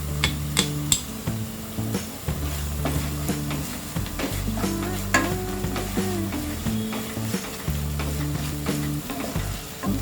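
Onions fry with ginger garlic paste for a paneer paratha, giving a steady close sizzle punctuated by repeated sharp clanks and scrapes of a spatula stirring against the pan.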